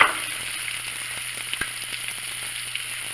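Chopped red onions hit a hot pan over a lowered flame, a steady close hiss of sizzling and frying after an initial burst, with faint stirring and no talking.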